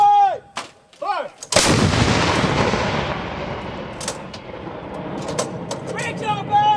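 A single loud, close artillery gun blast during National Guard crew training, a sharp boom with a long rumbling decay, preceded by shouted commands and followed by voices.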